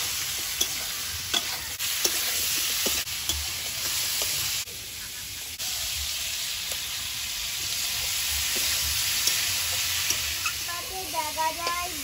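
Whole cumin, a little turmeric and potatoes frying in hot oil, with a steady close sizzle and repeated stirring scrapes running throughout, briefly fuller in the middle.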